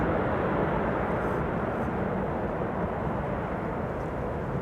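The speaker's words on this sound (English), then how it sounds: "The reversers are already spooling up." Airliner thrust reversers spool up after touchdown on Schiphol's Kaagbaan runway 06, a loud, steady broadband roar filling the whole clip without letup.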